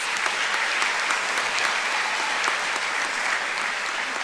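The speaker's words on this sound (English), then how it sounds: "Please give these students a round of applause." Dense, steady applause from a large audience at a high school honors ceremony, a continuous wash of many hands clapping at even loudness for several seconds with no voices standing out.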